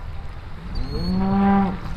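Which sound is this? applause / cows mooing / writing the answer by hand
cows mooing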